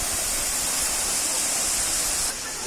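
Elephant Falls in Shillong gives a continuous close roar of cascading water, even and full, dropping slightly in level near the end, with no voices.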